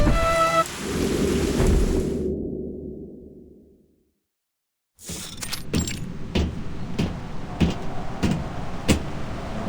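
A storm in the video game Reverse: 1999: a steady roar of rain and rumbling thunder fades to silence, then resumes with a series of sharp crackling hits over a continuous wash of rain.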